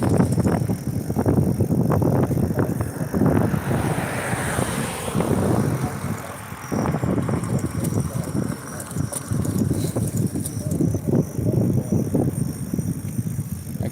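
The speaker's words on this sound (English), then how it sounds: "Yeah, now it's windy." Gusty wind roars against a moving car during a thunderstorm in New Jersey, a loud continuous buffeting rush with road rumble underneath, steady throughout.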